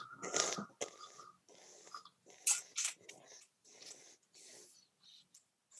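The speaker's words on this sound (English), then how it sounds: "So I'm slurping, I'm hissing in air" Olive oil tasted with slurping and air drawn in through the teeth, a series of close, breathy hissing bursts with short pauses between them, fairly quiet, no talking.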